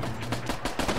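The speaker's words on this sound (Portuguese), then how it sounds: "Parece que alguém disparou o primeiro tiro." Rapid burst of gunfire in the Dead Rising 4 video game, a quick rhythmic string of sharp shots packed into a second, loud and close, with no talk.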